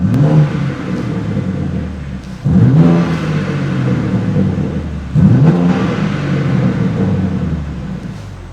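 A car's exhaust in comfort mode with the valves open: a steady, close engine drone rising in three distinct rev blips, each swelling and then easing back down.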